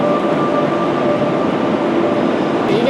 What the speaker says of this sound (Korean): R5 기차인데, 어, 여기 왔어요.